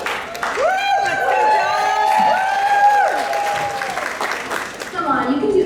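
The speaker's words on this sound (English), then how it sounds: "We want to hear you cheer all the way from the dressing rooms." A theatre audience at a dance show cheers and whoops loudly, with shouts and woos rising over steady applause for several seconds before fading slightly.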